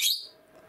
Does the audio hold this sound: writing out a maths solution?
no